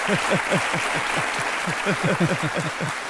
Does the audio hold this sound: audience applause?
yes